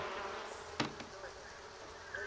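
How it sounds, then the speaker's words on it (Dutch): Bees buzz faintly and close by during beekeeping outdoors on a rainy day, with a few brief louder passes and light background noise. "ik ben gewoon met mijn bijen bezig geweest"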